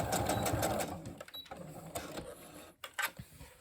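A sewing machine stitches elastic into a headband made from a Dollar Tree bandana, starting with a back stitch: a loud, busy whir for about a second, then quieter, intermittent motor bursts and handling clicks.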